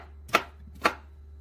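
A sharp kitchen knife chops vegetables on a board, two crisp separate strikes close by.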